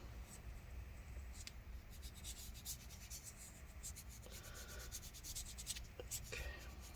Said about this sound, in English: let's get the grease off this as well